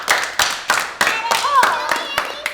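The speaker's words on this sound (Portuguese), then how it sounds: "É uma salva de palmas para a Tânia" Children and adults clap together for a child in a classroom animal-guessing game, a few loose rhythmic claps spaced roughly every third of a second, close and fairly loud, with excited young voices and chatter mixed in.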